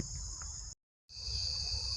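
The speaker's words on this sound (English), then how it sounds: "It's like the crickets aren't going to be around much longer." Crickets chirping outdoors at a campsite, a dense continuous high-pitched trill that is loud and close, briefly cut to silence before resuming unchanged.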